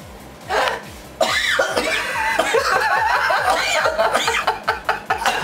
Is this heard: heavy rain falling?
no